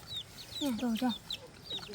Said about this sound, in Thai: ไก่ก็เต็มเลยนะคะ